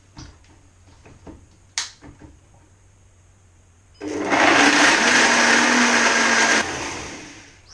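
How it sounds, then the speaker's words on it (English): A two-horsepower commercial blender roars loudly for a few seconds, a steady high-pitched whir, then cuts off; faint clicks and handling sounds precede it. "It's a commercial blender. It's now going to get a little bit noisy."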